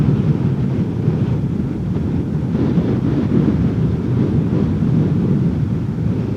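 Steady roaring wind buffets the microphone while riding a Honda PCX150 scooter, a constant low rumble with no pauses and no voices.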